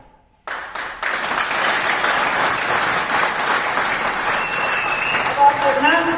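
An audience at a direct-selling motivational talk bursts into loud, sustained clapping after a sudden start, with a voice speaking over the applause.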